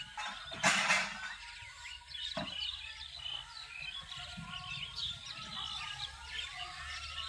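Birds chirp and tweet steadily in the distance, with a brief louder rustle or flutter near the start and no talking.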